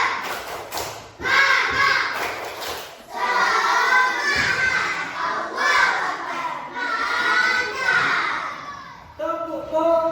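A class of children shouts and claps together in a rhythmic spirit clap, loud bursts of voices and hand slaps in patterned groups, with a teacher's voice at the start.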